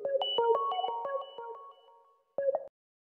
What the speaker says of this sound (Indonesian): Iya, ada orang telepon.